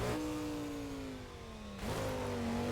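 Car engine in Burnout Paradise revving steadily with a strong harmonic drone, pitch sagging as it eases off, then a sharp gear-change dip before climbing again; loud and close, no talk.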